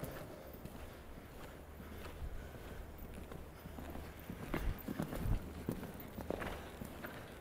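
A horse moves over the ground during a riding lesson, its hooves giving soft, irregular thuds and clip-clops under steady background noise, with a few louder hoofbeats in the latter half.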